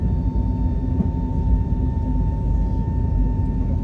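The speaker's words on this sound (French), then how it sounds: "J'adore le bruit de ce réacteur." A Transavia jet airliner's engine roars during takeoff, heard from inside as a loud, steady low rumble with a constant whining tone and no talk.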